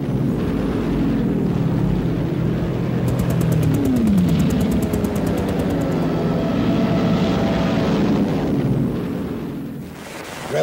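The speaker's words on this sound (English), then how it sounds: "And of course the aeroplane, which took the battle into the third dimension." A World War I aeroplane drones steadily overhead, a loud continuous engine roar with a brief pitch sweep as it passes, heard alone without talk and fading slightly near the end.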